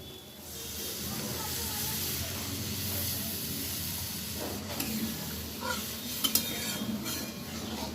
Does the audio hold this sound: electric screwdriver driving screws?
no